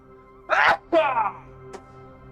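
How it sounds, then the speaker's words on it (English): A man's loud sneeze recorded close up over a game's quiet background hum, a sharp intake then two explosive bursts, with a faint click after. "I really have to sneeze."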